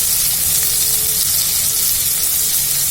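Turmeric added to hot oil for rasam: a loud, dense, even sizzle that hisses steadily and close up for the whole moment, with no talking.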